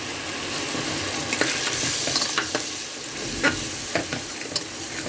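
Close sizzling of chilli, turmeric and cumin powders frying in a pan, with repeated scraping stirs at an uneven pace, a steady frying hiss underneath.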